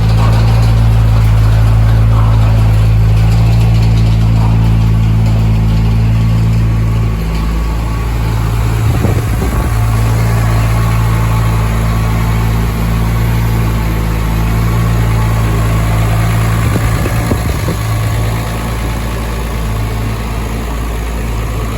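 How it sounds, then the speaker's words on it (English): A Lexus IS300 with a turbocharged, built 2JZ rod motor runs on a dyno, a loud steady engine drone with strong low harmonics holding near constant, with brief throttle swells around the middle and late in the run. "The car's running, the car's on the dyno."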